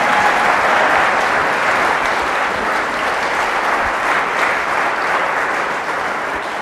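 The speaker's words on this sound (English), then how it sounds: "Please give a round of applause for Catherine Austin Fitts" Dense, loud audience applause greeting a speaker at a talk, a continuous even wash of many hands clapping that holds steady and eases slightly toward the end.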